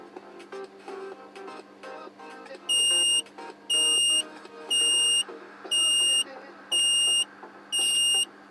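A thermostat's electronic alarm buzzer beeps in six evenly spaced bursts, loud and shrill, over a steady background hum.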